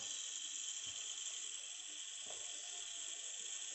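Soviet-era electric shashlik maker running, its skewer-turning mechanism giving a steady buzzing whir with faint intermittent clicks, close and continuous with no talk.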